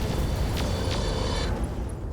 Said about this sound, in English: Ammunition explosion, however.